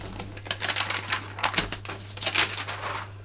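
Stiff sheet crinkling and rustling while napkins are folded, a run of quick dry crackles and taps at close range, with a steady low hum underneath and no talk.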